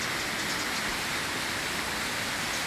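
Rain pours steadily outdoors, a dense, loud, even hiss of falling drops that holds unchanged throughout with no voices.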